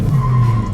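A JAC M3 with a 1.8-litre, 134 hp engine launching hard in a large car park, tires squealing in a short, loud, steady skid over the engine's drone.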